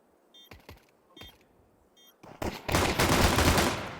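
Gunfire in Counter-Strike on the Anubis map during an IEM Cologne 2024 match: a few separate sharp shots, then a dense, loud burst of rapid fire toward the end.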